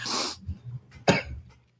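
Two harsh coughs from a person who has just smoked a hit, close and fairly loud, separated by a short pause with some rough breathing between them.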